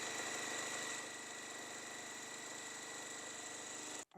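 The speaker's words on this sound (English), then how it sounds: "So I'm just going to come around one more time and sew 1/4 inch apart from the center." A sewing machine runs steadily while stitching a quilt block, a quiet continuous motor hum with fine rapid vibration that cuts off abruptly near the end, with no talking.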